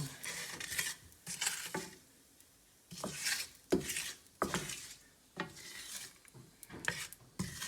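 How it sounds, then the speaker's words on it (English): Hing and chili powder being stirred into hot oil in a pan, with quiet repeated scraping and rubbing strokes in irregular bursts over a faint sizzle, close and soft. "This is the hing and the chili powder. Gonna stir that in there now."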